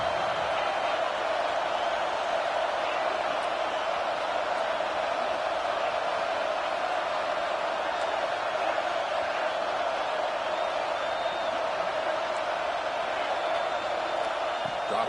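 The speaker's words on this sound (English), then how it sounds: "Third down, and the crowd really getting into it." Football stadium crowd on third down at Oklahoma vs Tennessee: a steady, loud wash of cheering and roaring from a huge crowd, unbroken throughout, with faint commentary voices underneath.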